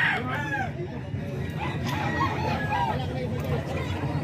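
A young gamecock stag crows near and clearly, with overlapping clucks from other fowl and background chatter of people talking throughout.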